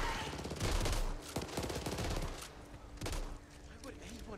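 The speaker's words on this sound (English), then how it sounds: "Machine gun!" Rapid machine gun fire in Back 4 Blood, dense bursts of gunfire layered with game effects and a voice talking over parts of it.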